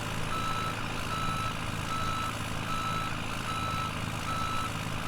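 Dump truck reversing beeps in Farming Simulator 17, a steady repeating backup alarm over a constant engine drone, loud and close throughout, with no talk.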